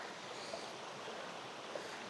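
Stream water flows at Kudlu Teertha Falls near Agumbe on the Seethanadi, a faint, steady rushing wash heard from a distance with no voices.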